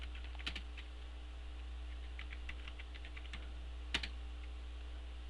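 Quiet typing on a computer keyboard while setting a MySQL root password, a scatter of soft key clicks with one sharper tap, over a steady low electrical hum.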